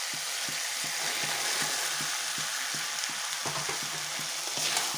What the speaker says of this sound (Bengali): এখন আমি মটরটা দিয়ে দেবো, তারপরে মটর দিয়েও একটু কষাবো।